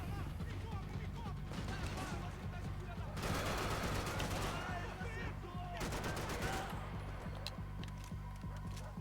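Assault rifle fire in the video game Max Payne 3, dense rapid bursts of shots over a low game soundscape, loud and sustained with a couple of heavier volleys.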